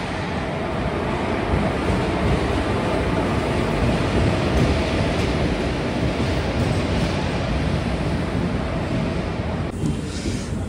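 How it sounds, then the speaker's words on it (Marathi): A train pulls into a station in a loud, steady rumble of broad noise that holds for about ten seconds before easing slightly near the end, with no voices. "फायनली बघा ट्रेन आली"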